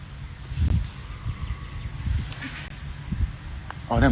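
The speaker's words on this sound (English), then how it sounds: "them geese scared the hell out of me flying by" A flock of geese flies past outdoors, their honking calls coming through over steady wind and a voice talking.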